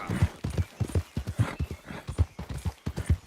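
Horse hooves in a video game, a brisk rhythmic clip-clop of galloping steps repeating evenly throughout, clear and close.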